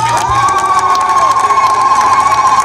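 A large crowd at an outdoor public gathering honouring a member of parliament in Masasi cheers and shouts loudly, with high voices mixed into a sustained, close roar.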